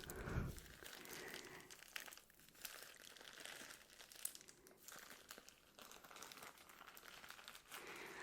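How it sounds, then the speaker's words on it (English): Ziploc plastic bag crinkled continuously up close, a steady rustling crackle with soft irregular bursts, alone and fairly quiet. "we use these Ziploc bags to preserve the open"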